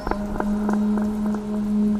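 Rain falls on a cold night by a riverside ghat, a soft steady patter with scattered louder drops tapping at irregular intervals over a low constant hum.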